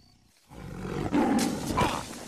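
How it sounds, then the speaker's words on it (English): A huge tiger roars in an animated film, a loud, close roar that bursts in after half a second of near silence and swells for about two seconds. "this fucking huge-ass tiger roar should totally wake him up"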